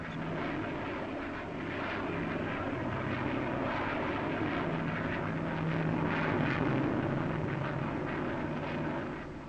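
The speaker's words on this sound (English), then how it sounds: "it's worth noting the maneuverability of this two-seater aeroplane" A two-seater jet aircraft roars steadily overhead at the 1953 Farnborough air show, a loud, broad rushing engine noise that swells slightly and then begins to fade.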